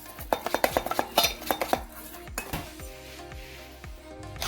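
Garlic and olive oil marinade for a roast lamb being mixed in a bowl: a quick run of sharp utensil clinks and scrapes against the bowl, then softer stirring and scraping, close and clear with no talk.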